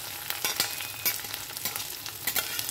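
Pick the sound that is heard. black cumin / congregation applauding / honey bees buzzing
black cumin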